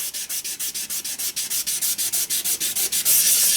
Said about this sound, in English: rub this down, you see that nasty staining or weathering